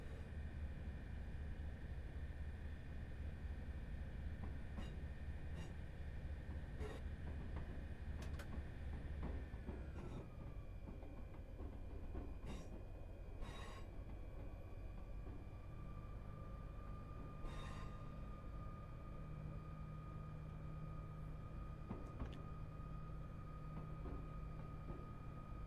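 A Class 158 Sprinter diesel train in Train Sim World 6 on the Fife Circle Line out of Edinburgh Waverley gives a steady low engine drone and rolling rumble, with tonal whines and occasional clicks, heard continuously and without talking.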